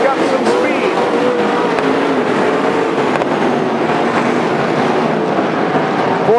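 Sprint cars race around Willamette Speedway, a dense, steady roar of engines droning at high pitch with cars passing close by, and an announcer talking over the noise.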